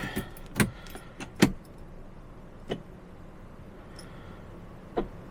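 Keys jangle and clink in a car's ignition, a few sharp metallic rattles spaced apart, close by and fairly quiet.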